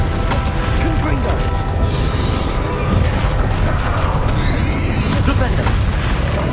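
A booming fire-spell blast from the Hogwarts Legacy video game, dense and loud amid continuous battle noise and mechanical clatter, with a voice speaking over the din.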